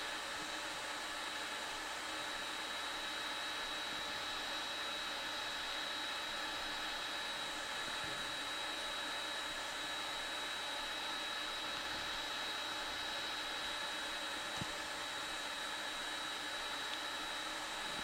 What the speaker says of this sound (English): Thank God for this fume extractor, or else this would be awful.